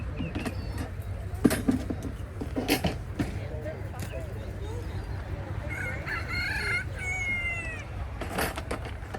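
Chickens and a rooster at an outdoor animal swap, with a rooster crowing clearly in the middle and further on, plus scattered clucks under steady background chatter and people talking nearby.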